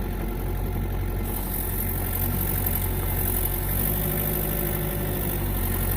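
A heavy excavator engine runs steadily while the machine drives and swings its boom, a continuous loud, rumbling drone with constant mechanical whir throughout, no voices.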